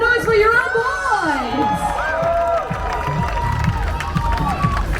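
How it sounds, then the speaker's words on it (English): Home crowd at a Tour de France event stage in Singapore cheering and shouting as riders are welcomed, with whoops and excited voices over a lively crowd roar, and an announcer talking over it. "let's make some noise for your own"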